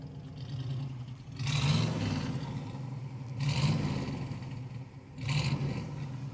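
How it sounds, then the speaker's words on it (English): A restored 1968 Pontiac Firebird engine revs hard three times, each roaring burst rising then falling back to a throaty idle, heard up close with no talking. "let's hear that roar of your engine"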